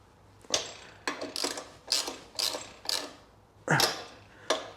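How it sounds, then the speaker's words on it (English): Screws on a Royal Enfield Classic 350 motorcycle mount are tightened by hand, giving about eight short ratcheting bursts in an irregular rhythm, close and fairly loud with no talk. "Tighten those 3 screws up."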